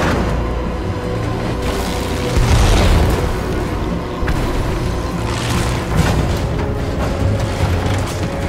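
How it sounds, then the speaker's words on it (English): Bombs explode in Battlefield V, the World War II shooter, as a loud, continuous barrage of deep booms and rumbling blasts that swell around 2.5 and 6 seconds. "bombs!"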